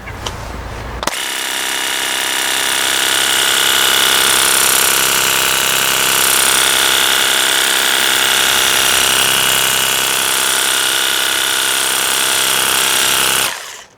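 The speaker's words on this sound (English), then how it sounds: "Now we'll give the 40-degree spread a try." A cordless pressure washer with a 40-degree spread nozzle blasts muck off paving slabs that have gone uncleaned for about two years, a loud, steady hissing spray that starts abruptly, holds unbroken for some twelve seconds, then cuts off.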